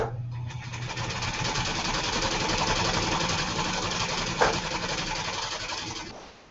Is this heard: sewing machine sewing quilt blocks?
yes